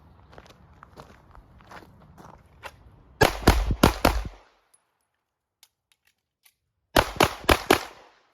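Handgun shots fired in a concealed carry drill, two rapid strings of four sharp, loud cracks separated by a pause for a magazine change, with faint shuffling and handling noises before the first string.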